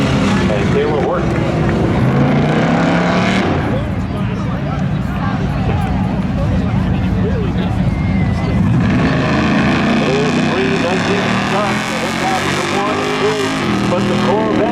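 Race cars roaring at Seekonk Speedway during spectator drags, a continuous loud engine drone with rising and falling revs, a Corvette among them, under crowd babble and announcer-like talk.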